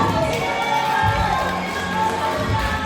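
Applause and crowd noise fill a graduation ceremony as graduates are called, a steady dense wash of clapping and cheering with no gaps across the stretch.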